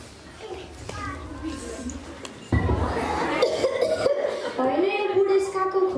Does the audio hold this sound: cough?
yes